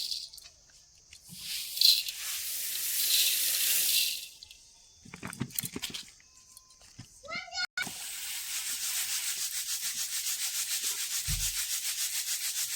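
Puffed rice (muri) freshly roasted with salt and water being shaken and sifted through a wide-holed basket, a dry rustling, rubbing patter with a brief clatter, then a steady rhythmic shaking; a voice is faintly heard.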